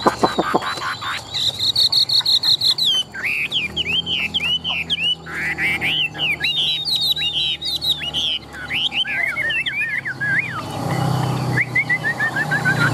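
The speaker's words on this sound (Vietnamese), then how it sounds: "Giọng hót cũng rất là hay" A tame Chinese hwamei songbird sings loudly and close, pouring out varied whistled phrases, trills and rapid chirping runs, with insects or crickets buzzing steadily in the background.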